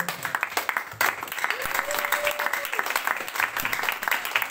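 A church congregation breaks into sustained, dense applause throughout, with a voice briefly speaking or singing over the clapping.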